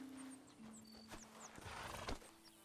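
A horse in Red Dead Redemption 2 clip-clops and gives a short whinny, nearby and fairly quiet, with faint game ambience and birdsong behind it.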